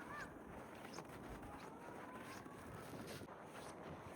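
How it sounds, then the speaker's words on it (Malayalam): Steady winter wind in Finland buffets the microphone throughout, a constant rushing roar with no voices. "ചെറുതായിട്ടൊന്ന് കാറ്റുണ്ട് കേട്ടോ"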